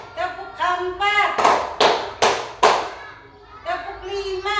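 Children clap together in a counted sequence of four sharp group claps spaced evenly in a classroom, with a voice calling out the count before and after them.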